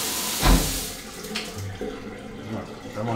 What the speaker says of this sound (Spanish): Y ahora miren el de arriba, ¿eh? ¡Es una super presión!